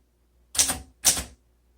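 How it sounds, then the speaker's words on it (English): Two crisp keystrikes on a 1954 Underwood Deluxe portable typewriter, each a sharp close clack with a brief mechanical rattle, separated by about half a second in a quiet room. "So this is the typing demo for it."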